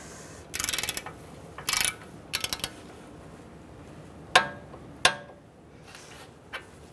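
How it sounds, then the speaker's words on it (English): A ratchet tightens a ball joint nut on a 2000-2007 Ford Taurus: short bursts of rapid clicking, then a few sharp metallic clanks and taps, close and moderately loud. "So let's tighten up this ball joint nut to 59 foot-pounds."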